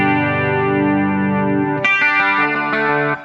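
Electric guitar through a pedalboard on a clean setting, a sustained ringing chord with chorus-like shimmer followed by a few picked notes, loud and close with no talk.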